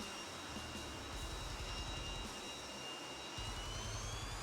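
Jet engine of a Saab AJS 37 Viggen in the DCS flight simulator, a steady, fairly faint turbine roar with a low rumbling throb and high whine, running alone without talk.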